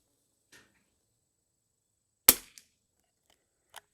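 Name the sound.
semi-auto rimfire rifle shots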